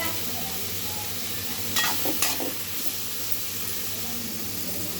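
Toor dal and ponnaganti greens being stirred through a tempering in a pan, with a steady frying hiss underneath and a couple of short scraping strokes near the middle.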